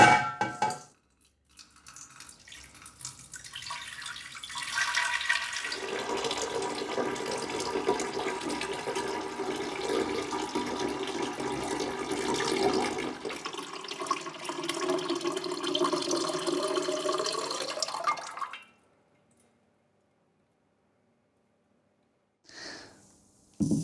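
Water carrying fine azurite pigment particles poured slowly from a glass, a steady running splash lasting around seventeen seconds and then stopping abruptly, followed by a brief faint clink.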